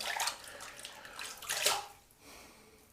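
A two-band badger-hair shaving brush is rinsed under running water, giving bursts of splashing and gushing that rise and fall, loud and close, then ease off toward the end.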